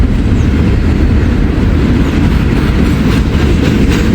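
A freight train rolls past on a railroad line, loud and close, with a continuous heavy rumble and a faint clatter of wheels on the rails throughout.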